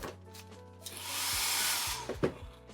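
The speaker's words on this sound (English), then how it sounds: "it's a decent blow dryer." A cabin blow dryer on a Carnival Luminosa cruise ship stateroom switches on with a rising airy whoosh, runs steadily for about a second, then winds down amid light handling clatter.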